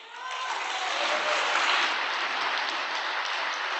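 An audience at a prayer meeting claps loudly and steadily throughout, a dense wash of applause from many hands.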